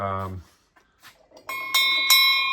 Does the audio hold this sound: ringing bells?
yes